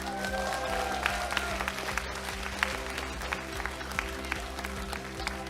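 Big round of applause from an audience at a Democratic Party (더불어민주당) concert rally in Daegu–Gyeongbuk, steady and sustained, with scattered sharper claps over a constant low hum.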